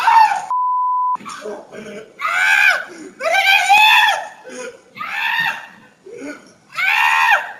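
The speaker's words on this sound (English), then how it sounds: "a lot of people thought that was a girl scream when you jumped up on that car" Man screaming as he jumps up onto a car, loud high-pitched yells in several bursts separated by short gaps, with a brief censor beep near the start.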